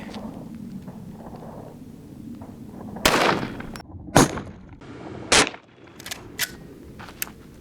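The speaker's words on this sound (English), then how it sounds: "First shot's going to be with the jacketed flat point" A Desert Eagle pistol fires a Hawk jacketed flat point round into ballistic gel outdoors, a single loud sharp crack followed by several smaller impacts and clatter over a low background rumble.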